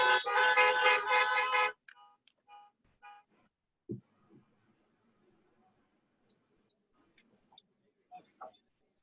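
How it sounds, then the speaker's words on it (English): Car horns at a drive-in civic event blare together in one loud, sustained burst for under two seconds, then give way to near silence with a few faint scattered knocks and sounds. "Give her a horn honk."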